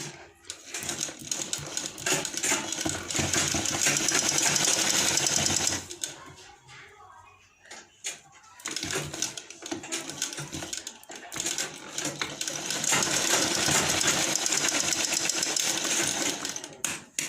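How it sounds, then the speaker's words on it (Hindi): A sewing machine runs a long basting stitch along the folded edge of a lined blouse, a steady close mechanical whir that stops briefly in the middle, then resumes for a second long stretch. "यहाँ पे मैं कच्ची सिलाई चला दूँगी"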